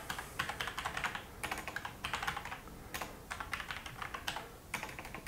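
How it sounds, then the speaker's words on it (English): Fast typing on a computer keyboard while building a Docker setup, bursts of quick close clicks with brief pauses between runs, no talk. "My typing used to be quite good"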